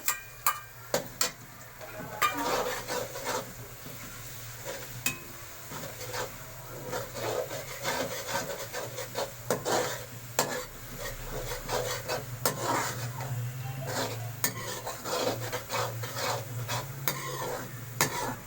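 Steady sizzling of garlic ginger paste frying with onions in a pan, with repeated stirring and scraping sounds up close, no talking.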